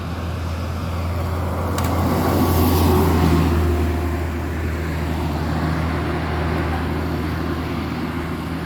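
ALS intercity bus passing along a road, a steady engine rumble swelling to a peak near the middle and then easing off, with no talk.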